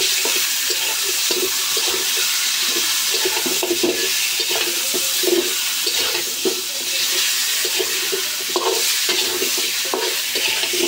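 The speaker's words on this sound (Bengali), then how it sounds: "মাছের মাথাটি লাড়া দিয়ে একটু ভাজিয়া পরে মশলা দেব।" A pangas fish head being stirred and fried in a pan with onion and tomato, giving continuous close sizzling and a busy scraping rhythm of stirring throughout, with no voices.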